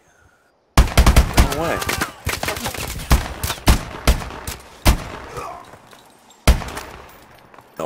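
Gunfire in Call of Duty Advanced Warfare, loud rapid bursts of automatic fire with sharp separate shots that stop and start across the clip while players talk briefly over it.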